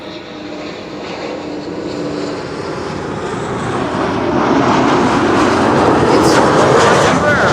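Embraer jet landing on Runway 06 at Amsterdam Schiphol, its engine roar swelling steadily from moderate to loud as it closes in and passes near.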